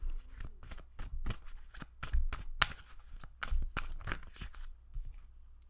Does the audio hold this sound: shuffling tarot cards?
yes